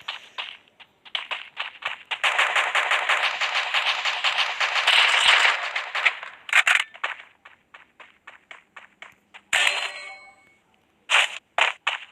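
Rapid bursts of gunfire in the Free Fire video game, long sustained automatic volleys alternating with choppy single shots and short pauses, loud and close.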